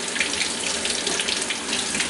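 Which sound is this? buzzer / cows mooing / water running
water running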